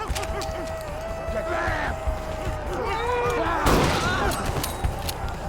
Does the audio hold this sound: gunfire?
yes